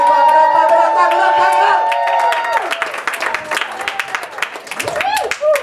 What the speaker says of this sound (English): Everybody, clap it up, clap it up